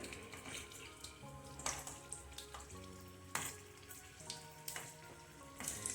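Stuffed bell peppers cook quietly in a pan over a low flame, a soft sizzle broken by intermittent clinks and scraping.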